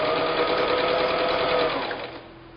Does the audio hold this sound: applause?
no